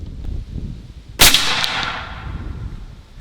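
A single sharp crack from a Bintac MCAR 7000 PSI air rifle fired on an outdoor range, a loud, near report with a short ringing tail, followed by quiet.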